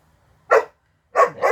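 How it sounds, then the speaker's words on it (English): A puppy barks three times behind someone making flower clusters: one short yip, a pause, then two quick barks close together, fairly close and loud. "That's my puppy talking behind us"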